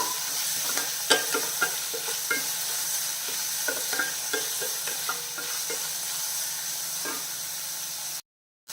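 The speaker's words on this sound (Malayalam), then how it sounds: "ഇതിൻ്റെ കൂടെ നമ്മൾ ചതച്ച് വെച്ചിരിക്കുന്ന ചെറിയ ഉള്ളി ഉണ്ടല്ലോ അതും കൂടെ ചേർത്ത് കൊടുക്കുകയാണേ എല്ലാം കൂടെ നല്ല രീതിയിൽ വഴണ്ടിരിക്കണം" Crushed shallots sautéing in a pan for a ladies finger (okra) curry, a steady sizzling hiss broken by scattered stirring clacks, close and continuous with no talk, ending in a brief cut to silence.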